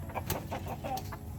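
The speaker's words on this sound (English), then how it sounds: "It's a rooster." Rooster clucking in a large chicken pen on a goat farm, a string of short close clucks and throaty calls with other fowl sounds around it.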